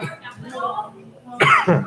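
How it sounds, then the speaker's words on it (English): A person gives a couple of short coughs up close inside a Starbucks in Victoria, with a brief murmur of voice between them. "cover my mouth while I'm coughing"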